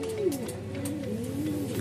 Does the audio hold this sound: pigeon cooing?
yes